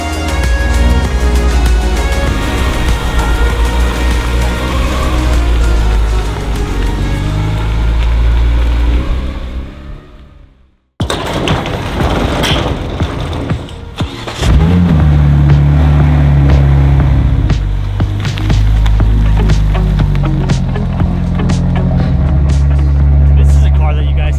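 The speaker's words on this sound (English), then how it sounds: "Tim's maiden voyage in the CRX" A Honda CRX with a swapped B18 engine idles and revs loudly up close, drops out briefly, then pulls away driving with a rising, strained engine note and road noise.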